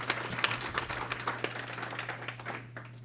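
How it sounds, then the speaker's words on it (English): Applause for a foundation at the UpPrize 2023 launch event, a moderate crowd clapping steadily over a low constant hum, tapering slightly toward the end. "So a round of applause for the foundation."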